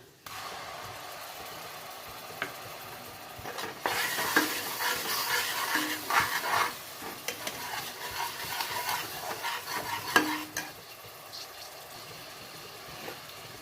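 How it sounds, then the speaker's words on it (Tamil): Ginger garlic paste and curry leaves frying in a pan for Chettinad chicken masala give a steady sizzling hiss, which swells louder partway through, broken by occasional scrapes and stirring clatter, close by with no speech. "அடுத்தது கருவேப்பிலை போடணும். அடுத்தது பார்த்திங்கன்னா இஞ்சி பூண்டு பேஸ்ட்."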